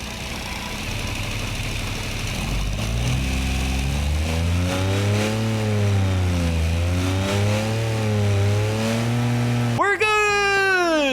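A low-powered car of only about 1.2 horsepower in the BeamNG driving game revs its engine in a long, wavering drone that rises and dips for several seconds, then ends in a sharp, high sweeping whine.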